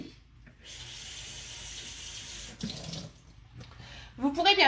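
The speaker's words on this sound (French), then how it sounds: "je vais déjà le passer sous l'eau froide pour pas oublier" A mould rinsed under cold running tap water, a steady splashing stream from the faucet with a brief break and a louder burst of water at the end, close and clear.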